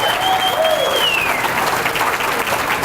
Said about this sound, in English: can we do actually one more round of applause for Mr. Ernie